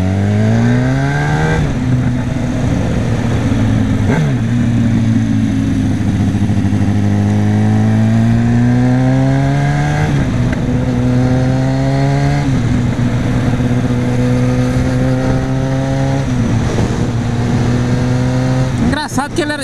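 A Kawasaki Ninja 1000 motorcycle pulls away from a traffic light and accelerates hard, its loud, close engine note climbing repeatedly as it shifts up through the gears.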